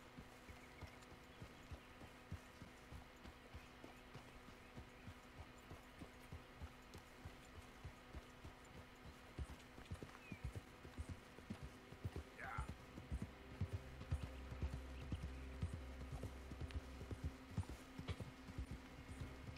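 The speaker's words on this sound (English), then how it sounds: "Oh, my horse is dirty." Steady, soft clip-clop of a horse's hooves plodding along in a regular rhythm in the video game Red Dead Redemption 2, fairly quiet, with a low hum and faint background noise throughout.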